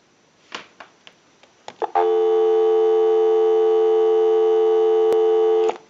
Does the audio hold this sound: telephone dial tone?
yes